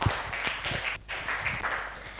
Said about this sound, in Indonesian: Beri tepuk tangan untuk Ica.